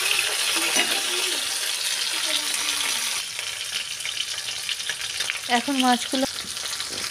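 Fish fries in hot oil in a pan, a close, steady hiss and crackle that eases midway, then some clatter and stirring near the end as a voice speaks briefly.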